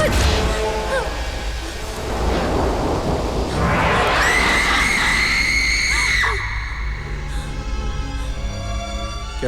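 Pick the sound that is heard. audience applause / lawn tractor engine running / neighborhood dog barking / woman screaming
woman screaming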